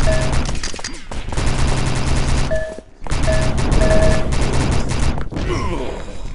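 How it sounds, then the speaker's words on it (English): Machine gun fire in a capture-the-flag video game bursts out in loud, rapid volleys, broken by a brief pause near the middle, with other battle noises and metallic mechanical sounds mixed in. "MG can be deadly. Machine gun."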